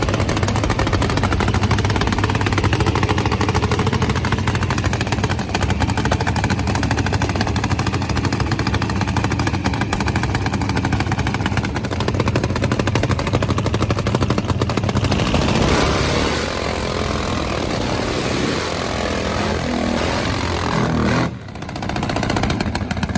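Supercharged nitro-burning Harley top fuel drag motorcycle making a run, a dense, relentless roaring rattle that fills the air for over twenty seconds, briefly cutting out near the end.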